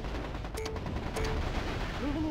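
Weapons fire from battling mechs in the strategy game MechCommander Gold, a rumbling barrage of gunfire with a couple of sharp tonal zaps and a rising electronic whine near the end, over steady background noise.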